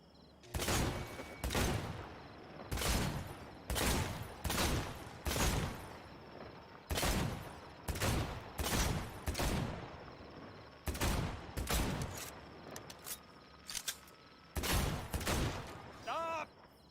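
Assault rifle fire in Cyberpunk 2077, fired in about a dozen sharp, loud bursts of rapid shots separated by short pauses, heard clearly throughout.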